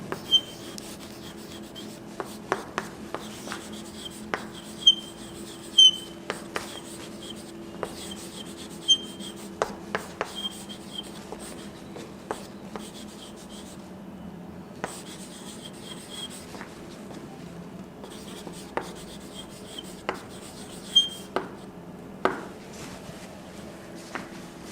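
Marker or chalk writing on a board during an English grammar class, heard as a steady run of soft rubbing strokes with frequent sharp taps, close and fairly quiet against a low room hum, with no talking.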